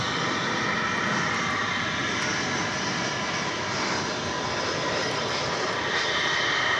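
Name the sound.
Airbus A319 jet arriving at DFW airport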